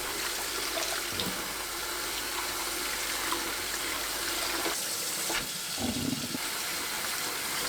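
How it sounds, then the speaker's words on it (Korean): Perilla leaves rinsed in a basin of water, a continuous close rush and slosh of water with brief splashes and swishes as the leaves are moved about, with no talking. "물에 3번 씻어주세요."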